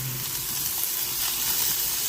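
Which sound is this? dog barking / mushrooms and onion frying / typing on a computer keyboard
mushrooms and onion frying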